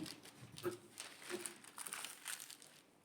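A paper sewing pattern for easy summer trousers is pulled apart, giving close, crinkly rustles and crackles in uneven bursts.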